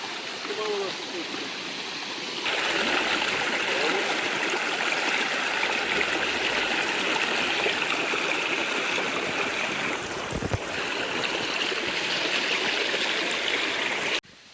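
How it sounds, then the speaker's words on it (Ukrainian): Huk waterfall and its stream in the Carpathian mountains near Mykulychyn, Ukraine, pouring in a steady, dense rush of water that grows louder after a couple of seconds and holds nearly unbroken to the end. "А ми пішли далі на водоспад Гук."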